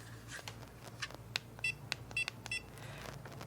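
Several short electronic beeps from a new mini heat press sound one after another over a low steady hum, with faint clicks in between.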